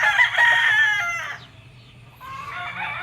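A rooster crows loudly nearby, a long strained call that breaks off, followed by a second shorter crow.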